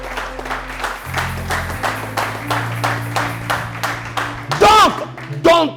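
Congregation at a church service clapping and cheering for Jesus, rhythmic rounds of applause building over several seconds with voices crying out loudly near the end.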